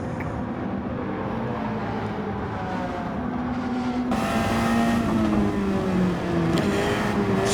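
Racing car engine in Gran Turismo 7 on the Sarthe circuit, a loud sustained high-revving drone that climbs and shifts pitch as the car accelerates, with a brief step up in intensity midway.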